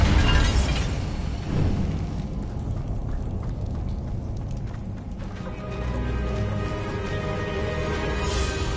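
A Bombarda spell explodes in a Hogwarts video game: a loud, broadband blast near the start, a second burst shortly after, then a rumbling, busy scene and another flare at the end.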